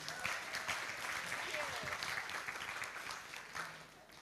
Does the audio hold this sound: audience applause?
yes